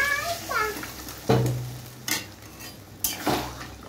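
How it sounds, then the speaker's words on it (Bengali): Potato and vegetable curry stirred in a pot after water is added. A spoon clanks and scrapes against the metal in several separate strokes over a low simmering sizzle, with brief faint voice-like tones at the start. "জল দিয়ে ভালো করে নাড়িয়ে নিতে হবে যাতে আলু টালুগুলো ভালো করে সিদ্ধ হয়ে যায়।"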